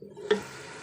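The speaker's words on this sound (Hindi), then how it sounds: "मसाले के साथ हम इसको अच्छे से भून लेंगे थोड़ा सा पानी डाल के, ताकि हमारे टमाटर भी नरम हो जाएं" Chicken and tomatoes with spices sauté in a pot, with a short stirring scrape and a soft, steady sizzle.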